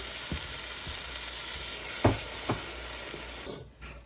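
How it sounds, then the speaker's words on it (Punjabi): Spices and tomato puree sizzle steadily in a pan, a continuous close hiss broken by a few sharp scraping stir clicks, with the sizzle dropping away sharply near the end. "ਆਪਾਂ ਨਾਲੇ ਪਾ ਦਿੰਨੇ ਆਪਾਂ ਟਮਾਟਰਾਂ ਦੀ ਪਿਊਰੀ ਇਹਦੇ ਵਿੱਚ ਆਪਣੇ ਸਾਰੇ ਮਸਾਲੇ ਭੁੱਜ ਜਾਣਗੇ"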